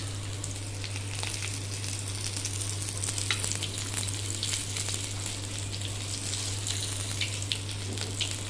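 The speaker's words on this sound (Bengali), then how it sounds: "কালো জিরে ফোড়ন দিয়ে দিলাম।" Nigella seeds sizzle in hot oil left over from frying fish, giving a steady, moderately quiet crackling hiss with a faint low hum underneath and no voices.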